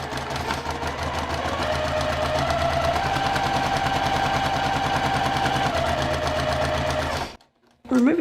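A sewing machine runs steadily, stitching down a fabric edge for about seven seconds with a dense rapid buzz, then stops briefly before starting again.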